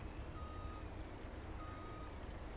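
A semi truck in a truck driving video game gives faint, repeated reversing beeps over a low engine hum, without speech.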